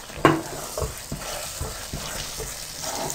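Makhadi halwa is stirred in oil or ghee in a pan, with soft scraping strokes and a quiet steady sizzle, a sharper clink near the start, and no talk.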